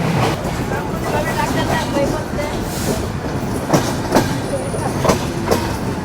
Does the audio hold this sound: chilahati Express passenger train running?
yes